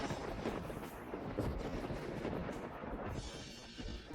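A thunder and lightning strike effect: a dense, heavy rumbling roar that stays loud and continuous for a few seconds, rolling and crackling without clear breaks, with no voices over it.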